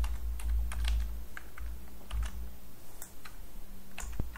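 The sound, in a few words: typing code on a computer keyboard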